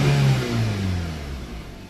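After an intake manifold runner control fix, a car engine idles and revs close by, and a rising tone at the start settles into a steady running hum that fades slightly.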